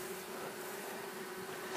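Honeybees of a swarm fan at a porch to call their sisters home, a continuous even drone of wings, close and unbroken, with no talking.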